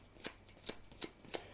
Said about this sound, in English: you're going to take this supply deck, you're going to give it a shuffle